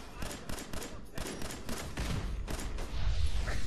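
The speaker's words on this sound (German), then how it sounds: "Was schießen die andauernd?" Rapid bursts of gunfire from Fallout 4 combat rattle repeatedly in quick volleys, with a heavier low rumble building toward the end and no talk over it.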